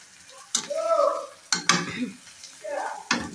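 Greens frying in a pan sizzle with a few sharp scraping stirs, the frying hiss swelling between each stroke, close by.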